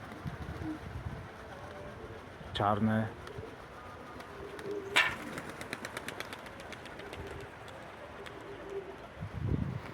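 Young pigeons on their first flights in 2024, with soft cooing and wing clatter amid a loud flapping burst of takeoff near the middle; someone speaks over it.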